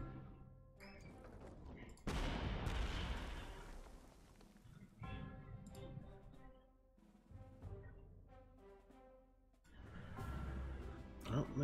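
Heavy booming artillery blasts from the Panzer Corps 2 war game land in several separate bursts a few seconds apart, each rolling off into a rumble, with a voice talking between them.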